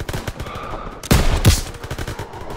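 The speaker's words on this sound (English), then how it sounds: "MGs, open fire." Machine guns open fire in the World War II shooter Call of Duty: WWII, a clatter of rapid shots punctuated by two loud blasts, close and heavy amid ongoing combat.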